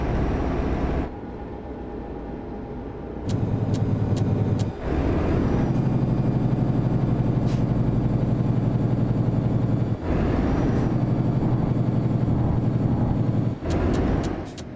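A Renault T Range truck in Euro Truck Simulator 2, driven through Iberia on cruise control, gives a steady, loud engine drone that briefly drops away and returns, like gear changes.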